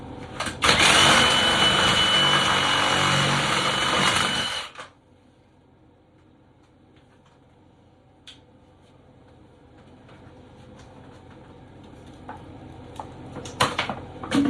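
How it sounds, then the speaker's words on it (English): A Ridgid brushless 18V reciprocating saw on orbital mode cuts through plastic with a loud, harsh, steady buzz for about four and a half seconds. It then stops dead, leaving near quiet and a few faint handling knocks. "It's a rough cut, as you expect from an orbital saw."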